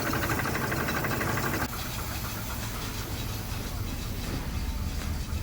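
A 1979 Pontiac Trans-Am barn find idles a little rough, with audible valve train noise in its steady, close mechanical drone and hiss, holding constant throughout with a slight shift partway.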